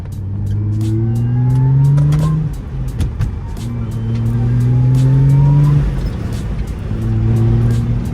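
A supercharged Audi S4 engine revs hard in repeated rising pulls, each climb ending in a drop before the next surge, loud and close with a faint supercharger whine over the roar.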